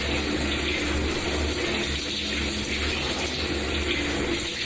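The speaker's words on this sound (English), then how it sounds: "Shower time." Shower water running steadily, a dense continuous hiss and spatter filling the whole stretch with no pauses or voices.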